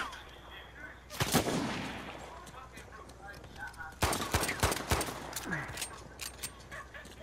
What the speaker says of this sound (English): I'm getting shot at by somebody, but they can't kill me